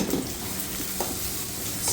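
Garlic fries in hot ghee in a pan with a brief, steady close sizzle and light crackling, plus a soft scrape or two, heard alone.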